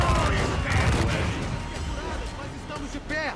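Cannon and gunfire in the Assassin's Creed IV Black Flag video game, a dense burst of booms and crackling shots at the start fading into clattering battle noise, with voices speaking over it.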